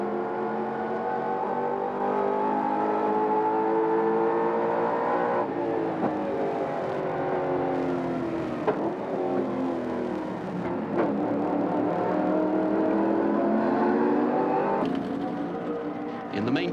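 A Holden Commodore race car laps Mount Panorama during the 1990 Bathurst 1000, its engine screaming through rising and falling revs with sharp gear changes, heard loud and continuous from onboard.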